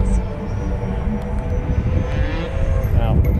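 A radio-controlled 90mm electric ducted-fan jet, a Hornet powered by a Viper 90mm unit, whines through a tail slide maneuver, its thin high tone shifting pitch under someone talking over it.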